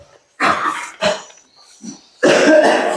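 A child coughs in short harsh bursts indoors, three or four loud separate coughs with brief silences between them, close to the microphone.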